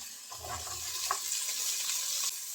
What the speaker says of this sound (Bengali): নেড়ে চেড়ে আলু এবং গাজর আগে একটু ভেজে নেবো